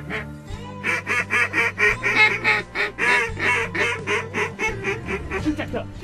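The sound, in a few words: duck during a waterfowl hunt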